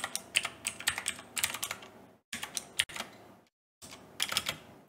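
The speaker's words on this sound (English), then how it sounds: "First things first, we need to type air quality." Fingers type on a computer keyboard in close, crisp bursts of rapid clicking keystrokes, separated by brief pauses and one fuller silent gap.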